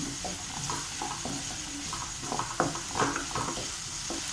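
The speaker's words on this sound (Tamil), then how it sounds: "வெங்காயம் நல்லா வதங்கட்டும்." Onions sauté in a pan for roadside-style salna, a close, steady sizzle broken by the scrape and clatter of a spoon stirring against the pan, with no talking.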